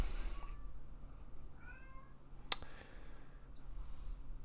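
A pet cat named Otis gives a short, thin meow from another room, faint and distant over a steady low hum, with a sharp click shortly after.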